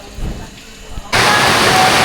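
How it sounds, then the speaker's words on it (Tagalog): Heavy rain suddenly pours down in a downpour, a loud, dense hiss that starts abruptly after quieter moments with faint voices and thumps, then continues steadily. "Sobrang lakas ng ulan."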